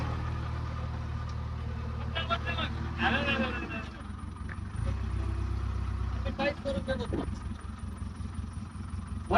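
Engine of a vehicle stuck and being driven out, a steady low rumble running throughout with revving swells, under loud overlapping voices of a gathered crowd shouting directions.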